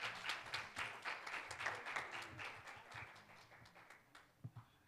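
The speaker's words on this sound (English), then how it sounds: "Let's give the Revelators another hand clap of praise" A church congregation claps in praise during a Sunday morning service, a steady stream of many hands with brief louder claps near the end.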